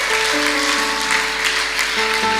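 A church congregation claps in praise of Jesus Christ, a steady wash of applause held under sustained keyboard or organ chords whose notes shift midway.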